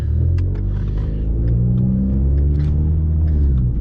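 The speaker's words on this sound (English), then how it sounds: "see there, it's changing gears by itself" Ford Mustang with automatic transmission in drive and sport mode, a loud close engine rumble with slight rises in pitch as it shifts gears on its own, steady throughout.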